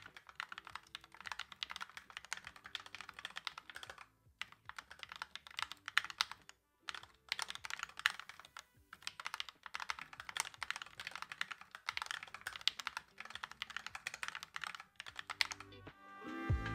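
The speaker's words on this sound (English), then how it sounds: "here's the untouched recording from the lubed Gatron Yellows." Fast, steady typing on a mechanical keyboard fitted with lubed Gateron Yellow linear switches, heard close and alone, with dense bursts of keystrokes broken by short pauses.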